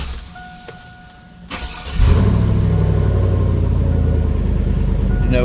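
A pickup truck engine fitted with Flowmaster mufflers turns over and catches after a short quiet stretch, then settles into a loud, deep, steady rumble close by, with no one talking.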